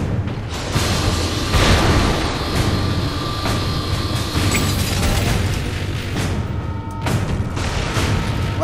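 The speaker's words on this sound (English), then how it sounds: "Well, that explosion should take care of him." An explosion in the video game Saints Row 4 roars as a sustained loud rumbling blast, with booming bursts and mechanical clatter layered through it, alone without talk.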